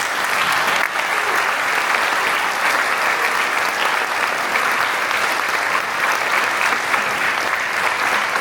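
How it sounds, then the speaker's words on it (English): Sustained, dense applause from the crowd at a youth police academy graduation ceremony, an unbroken wash of clapping lasting several seconds with no speech on top. "So please give them a round of applause."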